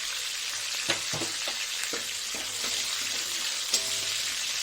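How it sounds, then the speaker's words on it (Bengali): Bay leaf and garam masala tempering crackle and sizzle in hot oil, a steady close frying hiss with a few sharp pops and faint utensil taps, no voices. "এবার দিয়ে দেবো হলো তেজপাতা আর এই যে গরম মশলা ফোড়ন দিয়ে দেবো"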